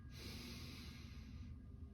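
A single slow, deep breath drawn in through the nose during a guided breathing exercise in a wellness class, close and airy, steady for over a second and heard alone.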